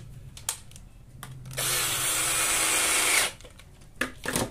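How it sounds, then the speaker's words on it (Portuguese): A power screwdriver drives a small screw into a wooden drilling jig for cabinet doors, a short steady whir of about two seconds between light handling knocks and clicks. "Aqui eu vou parafusar com um parafuso menor"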